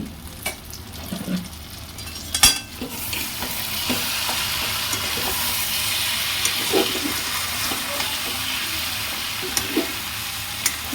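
Malabar spinach stir-fry sizzles steadily in hot oil, a close, continuous crackle with occasional sharper clinks and scrapes of stirring, and no voices.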